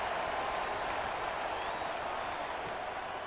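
A stadium crowd at a college football game in College Football 27 roars as a steady, distant wall of cheering and applause that holds evenly throughout.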